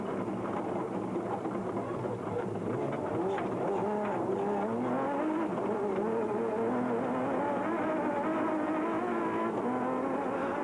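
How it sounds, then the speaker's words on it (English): A Ford rally race car on a twisty track at the Sun City 400, engine revving and shifting with rising and falling pitch, loud and continuous, while a commentator talks over it. "Woolridge had his work cut out trying to keep the Ford on the twisty track"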